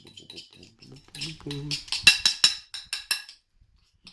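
A utensil clinks and scrapes against a bowl while banana, cinnamon and vanilla pancake batter is mixed, a quick run of sharp taps building in the middle, with a voice talking briefly at the start.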